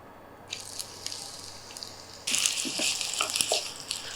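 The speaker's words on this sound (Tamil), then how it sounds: "வெங்காயம் எடுத்திருக்கேன், அதையும் இதில் போட்டுடலாம்." Onion hits hot oil in a clay pot while paneer pickle is made; soft scattered ticks come first, then a sudden bright sizzle that keeps crackling close by.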